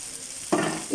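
Lamb brain dropped into hot oil in a pan, bursting into a loud, steady sizzle halfway through after a quiet start, with a brief stronger hiss near the end.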